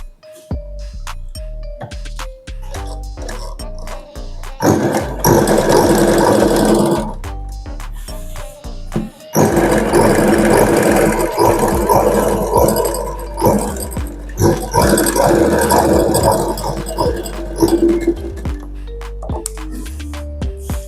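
A sewing machine stitches around the edges of an Aari-work blouse, running in two long loud bursts with short pauses, framed by brief tonal notes and clicks.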